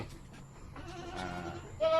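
A goat bleats during a deworming, ending in a loud, close, wavering cry after a quieter bleat and some low rustling, with no talk over it.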